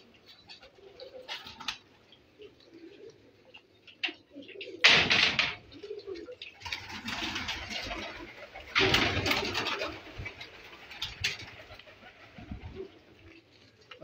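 Pigeons coo at a pigeon keeper's loft, soft intermittent coos mixed with louder bursts of fluttering or shuffling and a door-like clatter, with occasional voices nearby.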